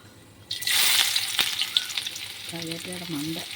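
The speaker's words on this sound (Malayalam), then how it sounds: "അതിലേക്ക് കടുക് ഇട്ട് കൊടുക്കുകയാണ് നമുക്ക് കടുക് വറുക്കാൻ ആവശ്യമുള്ള കടുക് മതി" Mustard seeds hit hot oil in a pan and burst into a loud, close sizzling crackle that stays steady, then eases slightly as a short voice comes in near the end.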